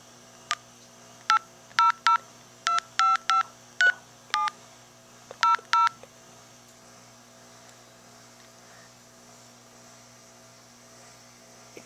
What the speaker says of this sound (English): It's dialing and ringing now.